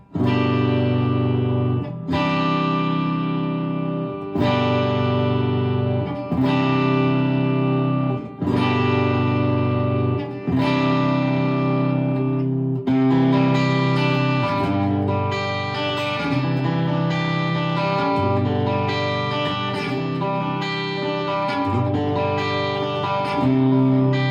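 Overdriven electric guitar strumming chords on a Gretsch Sparkle Jet clone, each ringing out before the next strike, with a bright, cutting bridge-pickup tone and effects coloring the sound.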